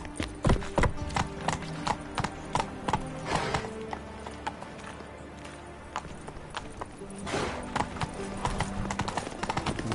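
Roach the horse's hooves clip-clop in The Witcher 3 on PS5, a run of sharp, close hoofbeats over the whole stretch with a steady rumble and other game sounds beneath.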